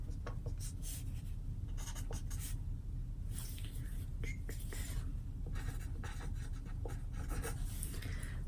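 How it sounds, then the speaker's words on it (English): A pen scratches out notes during a doctor role-play physical exam, with soft intermittent strokes over a steady low hum and quiet room noise. "We can write that down."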